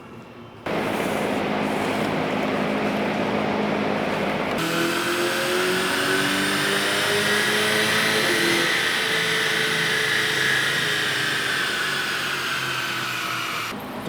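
A VW Golf GTI Mk8 with a stage 1 tune runs on a dyno roller, a loud sustained engine drone with rising whine and tonal harmonics that kicks in after a short pause and holds steady to the end.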